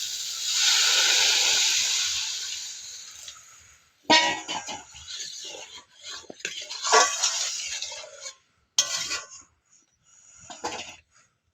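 Water poured into a pan of crab cooking village-style, a loud steady sizzling hiss for several seconds that fades, followed by intermittent bursts of frying crackle and stirring.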